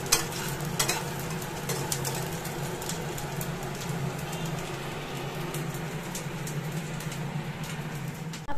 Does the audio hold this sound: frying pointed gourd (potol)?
yes